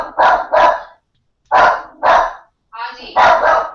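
A dog barks indoors in close, loud bursts: two quick double barks, a pause, another pair, then a growly yip run into a final double bark, with silence between groups.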